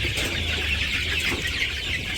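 Village chickens, still under a kilogram in weight, cluck continuously in a noisy, busy flock, a steady bright chatter with no clear gaps.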